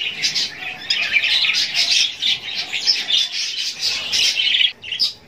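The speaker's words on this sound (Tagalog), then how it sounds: "So guys, yung ating finches," Pet zebra finches call in a steady stream of bright, rapid chirps and squawks, close and fairly loud, with no talking.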